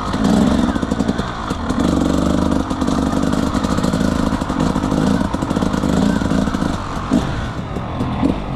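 A dirt bike rides around an abandoned motocross and enduro track that is being restored, its engine close and loud with a continuous, rough, throbbing drone at an easy, steady pace.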